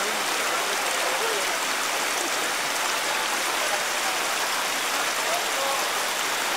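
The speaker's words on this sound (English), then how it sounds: "More views of the waters that make up the beginning of the Jordan River." Water flows steadily at the headwaters of the Jordan River at Caesarea Philippi, a constant broadband rush and splash close by, even in loudness throughout with no voices or breaks.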